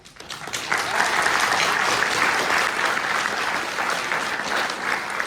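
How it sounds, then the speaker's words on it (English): Parents at a school orientation clapping for a staff member about to speak, a full, steady round of applause that swells quickly and holds at an even level throughout. "I like the clapping before I've even said anything"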